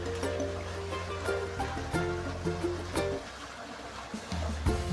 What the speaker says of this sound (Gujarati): અહીંયા પાણી હાલે છે